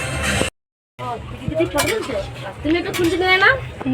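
Pots and utensils clatter faintly during outdoor cooking at home, with people talking loudly over most of it and a brief silent gap near the start.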